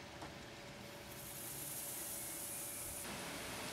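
Steam hisses into the chamber of a Savery steam engine, a faint steady rushing that swells after about a second and holds before cutting off abruptly, with no voices.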